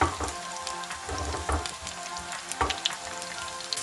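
Finely chopped onions fry in a curry pan over low to medium heat, giving a steady close sizzle with a few stirring scrapes.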